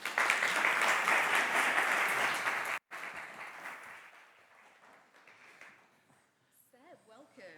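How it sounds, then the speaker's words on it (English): Audience applause greets the UK and Global Chair of Ad Net Zero as he is invited on stage. Loud, dense clapping runs for nearly three seconds, cuts off, then returns more softly, fades, and gives way to voices. "Let's give him a round of applause."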